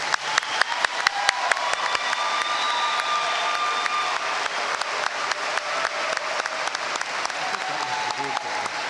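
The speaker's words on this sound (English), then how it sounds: "Let's give a round of applause for all of our graduates." A crowd at a college commencement applauds the graduates, sustained clapping from a large audience with sharp individual claps standing out, steady and fairly close for the whole stretch, with faint voices underneath.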